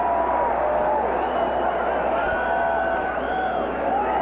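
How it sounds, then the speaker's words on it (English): A huge crowd of runners massed at the start of the 1989 Bay to Breakers race in San Francisco, giving a steady, loud roar and cheering throughout. "Listen to this crowd."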